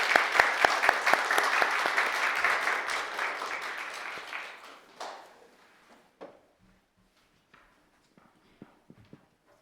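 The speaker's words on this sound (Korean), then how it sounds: "우리 큰 박수로 환영했으면 좋겠습니다." A church congregation claps loudly at first to welcome a missionary, then the applause thins out and fades over several seconds, leaving scattered claps.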